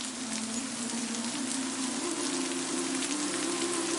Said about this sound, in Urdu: موسلادھار بارش کی آواز آ رہی ہے